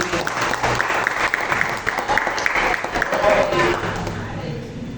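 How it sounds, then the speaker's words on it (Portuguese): A church congregation breaks into sustained applause and cheering, steady and full throughout, with voices mixed into the clapping as the sound eases slightly toward the end. "as palmas para o Senhor Jesus"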